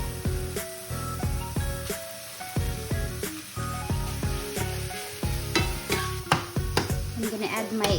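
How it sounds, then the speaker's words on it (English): Mushrooms, garlic and baby spinach fry in a pan, a crackling sizzle broken by repeated clanks and scrapes of a utensil against the pan, close and moderately loud with no talking. "I'm going to add some garlic that I made, and then we can add our baby spinach."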